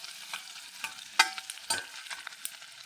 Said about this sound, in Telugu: ఇది మంచి ఫ్రై కావాలి.